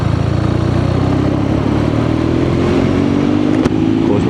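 A BMW R nineT Scrambler motorcycle cruising on an interstate at speed, with a steady engine drone and heavy wind rush that hold constant throughout.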